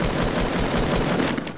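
Rapid automatic gunfire in Fortnite, a dense continuous burst of shots lasting the whole moment, loud and close with no pauses between rounds.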